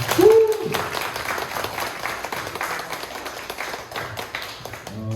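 Applause and clapping from guests at a Harley-Davidson VVIP summer BBQ night, a dense continuous patter of many hands following a brief voice at the start.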